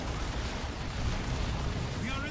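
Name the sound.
massive nuke explosion in Dawn of War 2 video game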